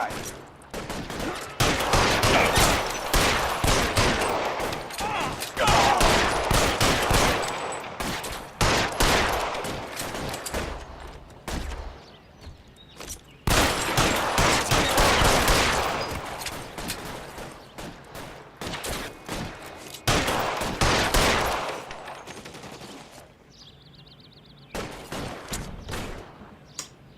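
Sustained Tommy gun bursts in the video game L.A. Noire during an arson-case shootout at an electroplating plant, loud rapid automatic fire in long volleys with short pauses, a gap mid-way and a quieter tail.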